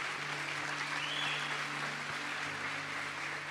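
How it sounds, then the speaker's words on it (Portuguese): A church congregation applauds in praise during a bilingual sermon, a steady, dense wash of clapping held at an even level throughout with no voices over it. "dá um aplauso ao Senhor"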